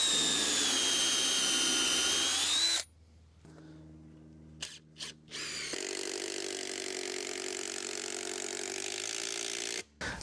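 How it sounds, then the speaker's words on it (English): A power drill with a countersinking bit drilling into wood whirs at high speed, pauses, then whines in a few short bursts before running steadily again at a lower pitch. "I've got a countersinking bit, so I'm going to drill some holes and get them sunk in."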